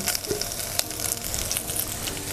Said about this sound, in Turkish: Hemen pençetalarımı girip hızlı hızlı çıtır çıtır olması için kavurmaya başlıyorum.